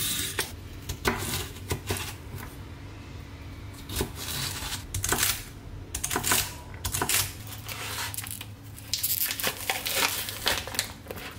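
A multi-setting vegetable peeler scraping rapidly along vegetables in a home kitchen, making a steady run of dry rasping strokes and crinkly scrapes, close up and without talking.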